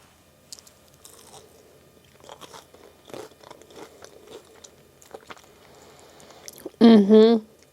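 Someone bites and chews a warm, freshly baked cookie with a doughy texture, giving soft crunches and moist chewing sounds close by, with brief murmurs and a loud voiced reaction near the end.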